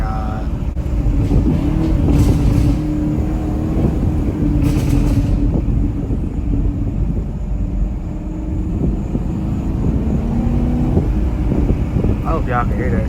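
Tuned Chevrolet Camaro SS engine droning and rumbling through late-night street traffic, a loud continuous low growl with rising rev tones, heavy wind buffeting and occasional speech over it.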